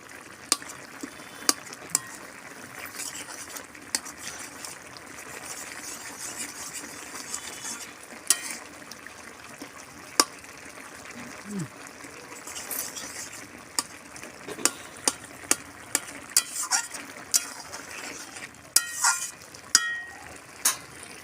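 Tomatoes frying with gourd greens and potato posto are stirred and mashed in a pan: a steady low sizzle punctuated by frequent sharp clicks and scrapes of a spatula against metal, close by with no talk.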